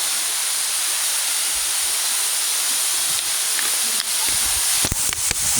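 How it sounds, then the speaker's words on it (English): Carney Springs waterfall in the Superstition Wilderness, Arizona, a steady broad rushing hiss of falling water that holds without a break, with a few faint knocks near the end. "here, Carney Springs Waterfall"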